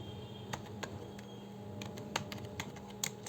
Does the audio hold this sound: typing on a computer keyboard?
yes